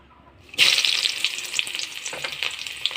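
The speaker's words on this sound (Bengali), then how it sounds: "কড়াইতে তেল দিয়ে দিছি, গরম হয়ে গেছে। এবার পেঁয়াজ রসুন দিয়ে দেবো" Onion and garlic go into hot oil in a wok and set off a loud, close burst of sizzling that keeps frying at a steady hiss, with some light crackles and no voices.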